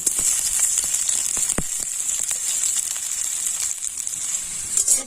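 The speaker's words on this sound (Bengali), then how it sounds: "এটাকে নেড়ে চেড়ে লাল করে ভেজে নিচ্ছি" Chopped onion and green chilli fry with five-spice in hot oil, a loud, continuous close sizzle scattered with sharp crackles and pops.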